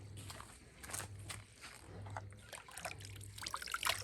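Water trickles and splashes from a tap after rain, a faint uneven dribble with soft knocks and a low repeating hum beneath, no speech.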